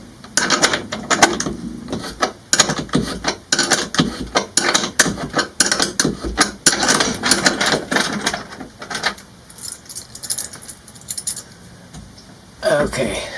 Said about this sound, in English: now I use my set of wrenches to tighten the plus nut